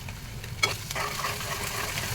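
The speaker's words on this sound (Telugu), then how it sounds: "ఉల్లిపాయలు ఎప్పుడైనా సరే కొద్దిగా ఉప్పు, పసుపు వేస్తే తొందరగా వేగుతాయండి." Onions fry with salt and turmeric for a raw prawn curry, giving a close, continuous sizzle with light stirring scrapes in the pan.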